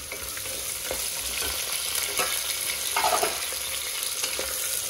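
Onions hit hot oil with spices in a pan and fry with a steady, close sizzle, broken by occasional stirring scrapes, with no talking.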